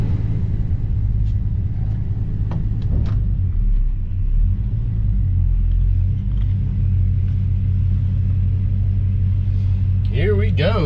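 Rebuilt Squarebody truck on its first test drive under its own power, a steady low engine and road rumble heard from inside the cab, with a brief higher squeal near the end.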